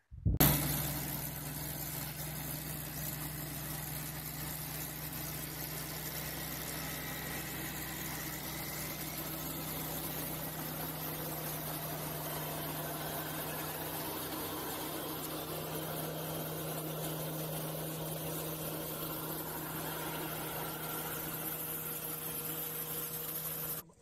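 An Eicher 557 tractor engine running a threshing machine drones continuously at a constant pitch, running unchanged throughout with a low hum and mechanical rattle, no voices.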